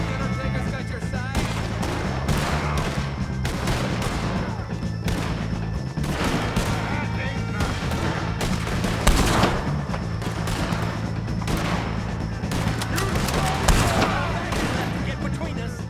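Gunfire in the video game Red Dead Redemption 2 during a shootout with the O'Driscoll gang, repeated rifle and pistol shots cracking over continuous battle noise, with shouting voices in between.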